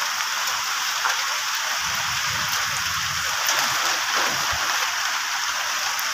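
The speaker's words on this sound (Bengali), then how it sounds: "আর এখন দেখো বৃষ্টি পড়তেছে" Steady rain falling outdoors at night in a rural spot by a patch of amaranth greens, a dense continuous hiss with scattered heavier drops, fairly loud and unbroken throughout.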